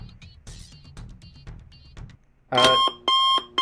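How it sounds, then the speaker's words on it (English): A timer alarm in the drawing game RogueDraw goes off near the end, loud repeated electronic beeps in two bursts after a stretch of quieter scribbling and clicking sounds, with no talking over it. "I'm going to stop here and just wait for the timer to go out."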